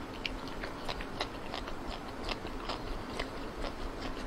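Crunchy food being bitten and chewed close to the mic, a steady series of crisp crunches roughly every few tenths of a second over a soft background hiss, with no talk.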